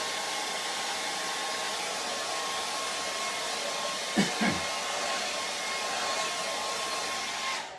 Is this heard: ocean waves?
no